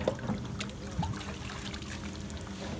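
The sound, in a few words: lake water trickling through a filter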